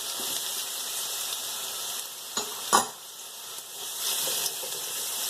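Garlic and ginger fry in a pan for a salmon fish curry, giving a soft, steady sizzle. Two brief, sharp stirring scrapes stand out midway, and no one speaks.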